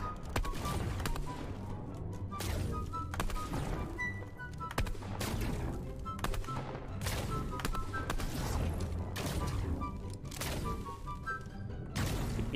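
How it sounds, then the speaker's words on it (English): Rapid gunfire bursts crackle throughout a cube-themed video game match, loud, dense volleys and sharp shots piling over one another with little pause. "Who's shooting at someone over here, right?"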